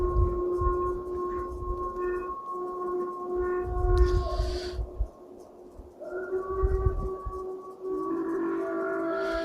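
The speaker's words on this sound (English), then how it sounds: "Why do you think it's a dire wolf, Carol?" A long, wavering howl attributed to a supposed dire wolf, rising and falling in sustained tones over steady background rumble, loud and continuous with a brief dip midway.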